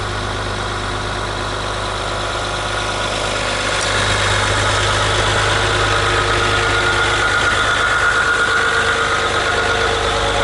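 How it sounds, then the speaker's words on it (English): A Ram Rebel pickup's 3-liter V6 EcoDiesel idles nearby in a steady, loud, even diesel rumble with a faint clatter, growing slightly louder about midway and continuing without a break. "And it's a diesel. It's a 3-liter V6 Eco diesel."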